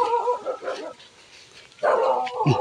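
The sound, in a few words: dog barking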